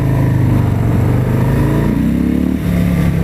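A 2018 Harley-Davidson Fatboy's big V-twin engine runs loud and close, with a deep throbbing rumble that climbs in pitch as the throttle opens, then eases briefly before holding steady.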